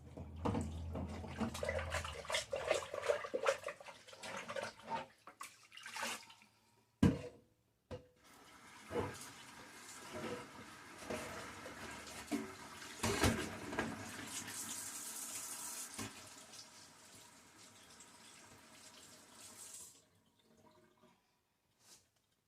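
Running tap water rinses out a dirty plastic silverware holder at a kitchen sink, splashing and gurgling unevenly with clattering knocks, close and fairly loud, before the flow stops near the end.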